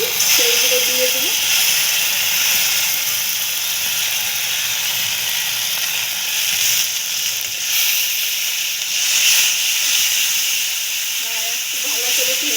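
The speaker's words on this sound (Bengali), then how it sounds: "আদা রসুনের পেস্টটা একটু ভাজা হয়ে যাবে।" Ginger garlic paste frying in a pan hisses loudly and steadily at close range, a continuous steamy sizzle, with a voice briefly heard at the start and near the end.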